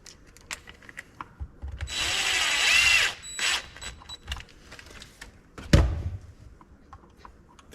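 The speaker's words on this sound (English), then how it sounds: "Again, not over tightening those if you're using a drill." A power drill drives screws into the chassis of a Traxxas Slash or Rustler 4x4 RC car during a spur gear change, with a sustained whirring burst of about a second followed by shorter bursts and clicks of tools being handled.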